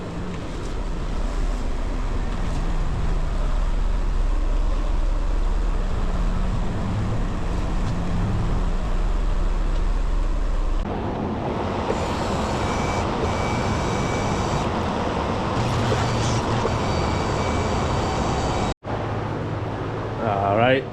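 A BMW with a new exhaust is driven into a garage, its engine droning loudly and steadily with a deep low rumble, then the tone shifts as it pulls inside, briefly cutting out near the end before resuming.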